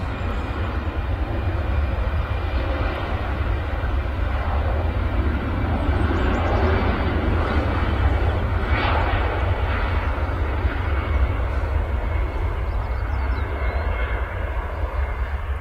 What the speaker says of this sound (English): Lingus A320 on the roll now.